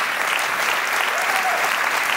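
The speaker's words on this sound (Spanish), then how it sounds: "un aplauso enorme también para ella" Warm audience applause at a poetry recital, a steady dense clapping that holds evenly for a couple of seconds without any talk over it.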